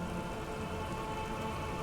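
Steady rain from the Disco Elysium video game, a dense, even hiss of drops on surfaces that holds at the same level throughout, with no voices.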